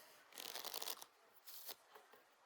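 A deck of playing cards is shuffled during a magic trick, a quick riffling burst followed by two shorter, quieter flurries, faint and close.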